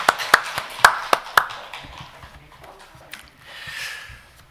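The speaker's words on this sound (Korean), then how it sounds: "우리 하나님께 박수 한번 돌리겠습니다" A church congregation applauds during a Sunday worship service: a quick run of sharp, loud claps that soon thins and fades into scattered, softer hand sounds and a quiet room.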